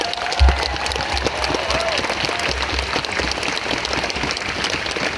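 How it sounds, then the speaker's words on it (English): A protest crowd claps in a broad, sustained round of applause, with scattered voices and a brief thump near the start. "So can we just give them a round of applause?"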